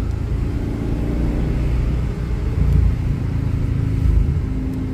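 A BMW 320Ci convertible passes by on the road, its engine a loud, steady low rumble with a brief swell as it goes past, heard alone without talk.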